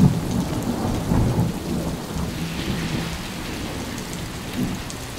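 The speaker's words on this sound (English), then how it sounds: "The rain started pouring down while I was on the bus to the airport" Heavy rain pours down during a thunderstorm near Newcastle, Australia. A steady, loud wash of rain is layered with deep rumbling thunder throughout, and no voices are heard.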